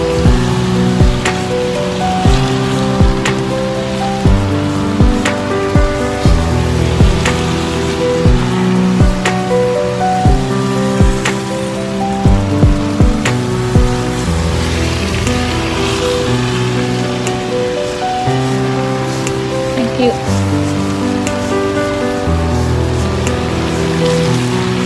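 Heavy rain pours down steadily beside the Aida ferry. The rain is a continuous dense hiss under tonal background music, with occasional sharper drops and splashes and no talk.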